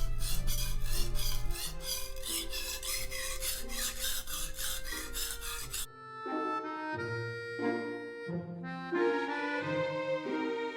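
A kitchen knife drawn across a fine-grit whetstone gives quick, even rasping strokes in a steady back-and-forth rhythm for several seconds, then stops, with music playing throughout.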